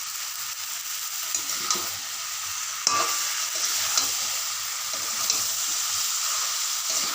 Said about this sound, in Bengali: এবার পুরো বেগুনটাকে এর মধ্যে দিয়ে দিলাম।